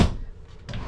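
A storage drawer in a Brinkley RV slides with a short close thump, then a second softer knock a moment later, near and brief with no talk.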